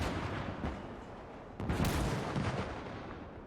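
Distant mortar and anti-tank gun fire in the WW2 video game Call to Arms, a dense rolling rumble of shots with a heavier burst partway through, faint and continuous.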